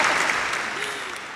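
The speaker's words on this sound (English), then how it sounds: "House applause" Studio audience applause at a talk show, a dense wash of clapping that starts loud and fades slightly over a short burst, with no voices.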